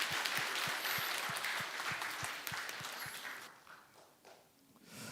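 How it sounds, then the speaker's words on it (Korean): A church congregation at a Sunday service claps together in a steady, even rhythm. The applause is moderately faint, then fades and thins out toward the end. "박수 한번 쳐야 되겠는데."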